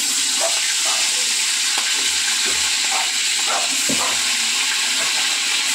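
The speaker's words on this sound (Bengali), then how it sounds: "তেল কিন্তু একদম হয়ে গেছে, গরম হয়ে গেছে। মাছগুলো ভেজে নেব।" Fish frying in hot oil, a continuous close sizzle with a few low thumps and spatters as pieces settle in the pan, no voices.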